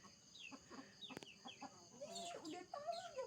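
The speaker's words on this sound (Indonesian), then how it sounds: "Aku baru bangun kasih makan ayam." Chickens cluck and chatter near at hand while being fed scattered rice, with a rooster among them, busy overlapping calls getting livelier toward the end.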